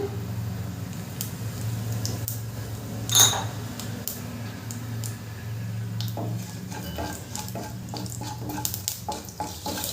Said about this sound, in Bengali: ওই তেলের মধ্যে দিয়ে দেবো অল্প একটু গোটা জিরে